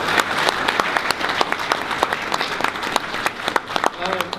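A crowd at a PAX Australia game trivia panel applauds a guest, brisk clapping with sharp individual claps standing out, a brief cheer or voice near the end.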